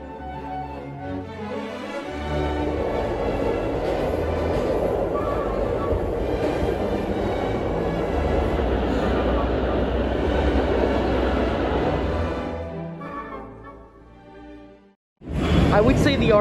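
An NYC subway R46 train runs with a loud, steady rumble that swells and holds for several seconds, then fades before speech starts at the end.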